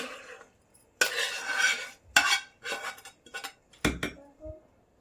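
A metal spoon scrapes and clanks against a pot in several bursts of stirring tempering into curd rice, with brief pauses between; no one speaks.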